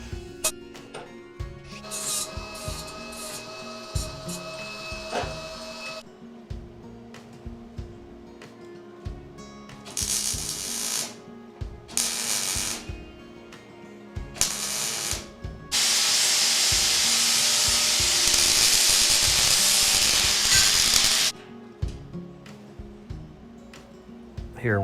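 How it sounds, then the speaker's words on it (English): Angle iron for barrel stove legs is cleaned up with a power tool, giving long bursts of harsh abrasive hissing and grinding, with steady mechanical rumble and clanks between passes. "Here we'll start cleaning up some angle iron that we'll be welding to the barrel"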